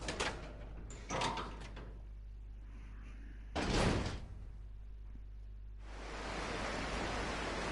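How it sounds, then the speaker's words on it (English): A door in the video game Resident Evil Zero opens with a couple of heavy scraping, thudding bursts over a constant low rumble of game ambience, followed by a steady hiss like rain outside. "Oh, this is the door."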